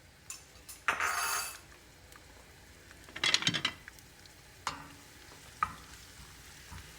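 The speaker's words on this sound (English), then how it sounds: "it'll start sizzling and frying as the oil gets hotter." Garlic sizzling and frying in hot oil for pasta with garlic and parsley, with a loud burst of sizzle, a second crackling flare a few seconds later, then softer pops and spits, close up, with no talking.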